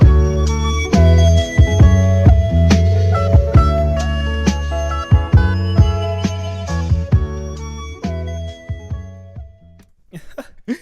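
A harsh, buzzy, bit-crushed flute melody with a gritty 1-bit digital texture plays over sustained tones, then breaks into sharp glitchy clicks near the end.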